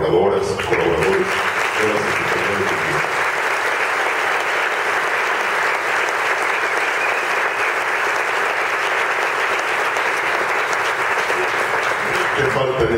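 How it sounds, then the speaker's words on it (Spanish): Sustained applause from a festival audience at the opening ceremony of a film festival in Colima, Mexico, a dense steady clapping that fills the whole stretch after a brief moment of talk at the start. "yo les quiero pedir un gran aplauso para mis colaboradoras, colaboradores"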